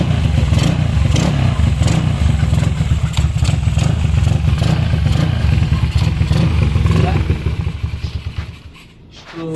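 Yamaha Mio Soul scooter engine running with a 500cc racing starter motor fitted, a loud close, rapid clattering drone that holds steady for most of the stretch, then dips and tails off near the end.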